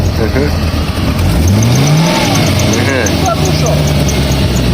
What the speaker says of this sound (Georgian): ძრავი მუშაობ ძალიან საკაიფოდ.